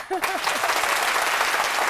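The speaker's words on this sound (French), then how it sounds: "nous les encourageons, bien sûr, avec des applaudissements" Studio audience applause on a midday Ivorian TV show, with a brief voice at the start before dense, steady clapping fills the rest evenly at moderate loudness.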